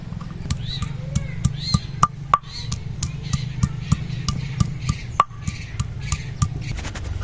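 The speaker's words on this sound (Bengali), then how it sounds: "আদা আর রসুনটা আমি বেটে নিচ্ছি, একসাথে বেটে নেব।" Ginger and garlic are ground together by hand, beside a pond-side cooking spot. It sounds like a steady series of sharp, rhythmic knocks and scrapes, close and fairly loud, over a low background hum.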